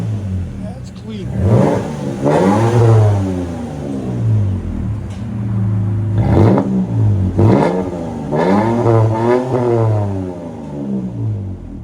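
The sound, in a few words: Toyota Tacoma 3.5L V6 exhaust with Flowmaster Super 10 revving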